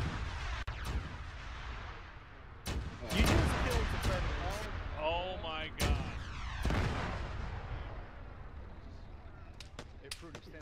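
Barrels exploding in a video game, several sharp booming blasts scattered through a rumbling battle backdrop, some loud and close, with a warbling whistling effect between them.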